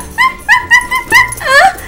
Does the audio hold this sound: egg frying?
no